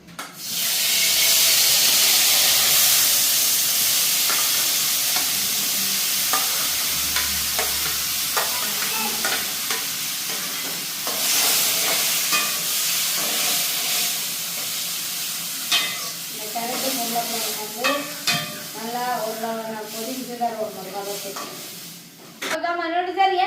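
Carrot and potato pieces sautéing in hot oil with a steady, loud sizzle and hiss, broken by occasional stirring scrapes; faint voices come in near the end.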